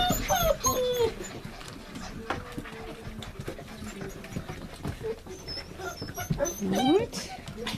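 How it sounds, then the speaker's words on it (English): Seven-week-old Sheepadoodle puppies from a litter of 13, an Old English Sheepdog and standard poodle cross, whimper and yip in high rising cries near at hand, with people talking in the background throughout. "a litter of 13 puppies"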